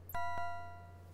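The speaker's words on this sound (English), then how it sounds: "So let's hop out and go jangle the ship bell." A ship's bell in the video game King's Quest 5 rings twice in quick succession, each strike clear and metallic with a long, slowly fading ring, alone and fairly quiet.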